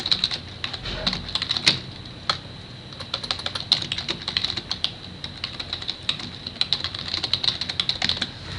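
Typing on a computer keyboard to enter a question, steady irregular clatter of key presses close to the microphone, with no voices.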